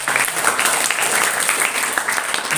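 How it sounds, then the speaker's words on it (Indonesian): An audience at a Ramadhan school religious lecture breaks into applause, a dense, continuous clatter of many hands clapping together, loud and close, sustained throughout without any speech over it. "Tepuk tangan semua"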